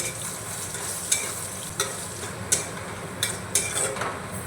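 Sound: stirring fried onions with dried red chillies in a pan

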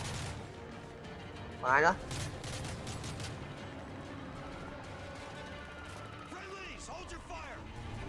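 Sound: gunfire in the video game Call of Duty Modern Warfare 3

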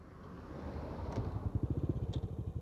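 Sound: Honda Astrea motorcycle engine starting and idling

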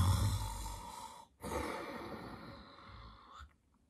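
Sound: voice imitating snuffling and snoring while asleep

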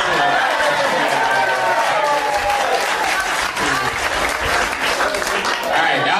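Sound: audience applause

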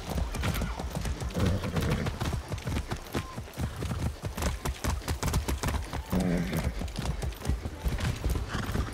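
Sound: horse hooves and whinny in video game

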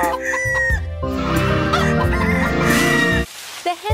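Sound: hens clucking in a farm video game

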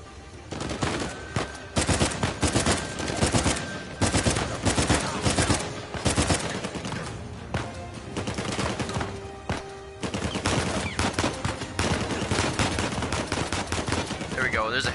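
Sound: gunfire in video game Uncharted 4

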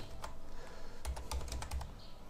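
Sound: typing on a computer keyboard

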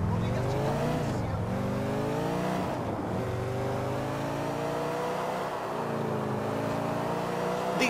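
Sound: car driving in the video game GTA IV

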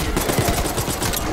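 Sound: gunfire in Call of Duty: Black Ops 6 video game

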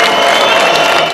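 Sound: applause and booing for the Prince and Princess of Asturias at the opera

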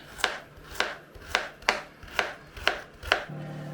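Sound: knife chopping carrot into quarters

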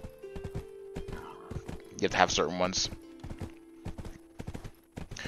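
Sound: horse hooves clip-clopping in video game Black Desert Online

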